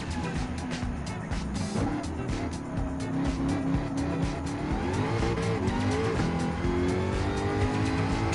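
A World Touring Car 800 race car in Gran Turismo 7 at Autopolis, engine held at full throttle in third gear, a loud steady droning roar with rising pitch sweeps and tyre noise throughout.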